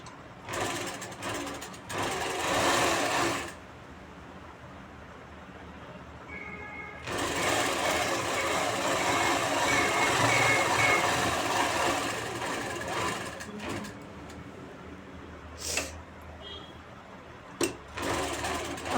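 A sewing machine runs close by, stitching fabric along buckram in loud, steady bursts. Short pauses separate the longer runs, and brief clicks follow near the end.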